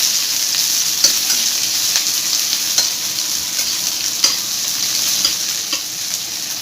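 Sliced onions fry in a pan for a fish curry, giving a constant loud sizzle with faint clicks of occasional stirring, close up and with no voices.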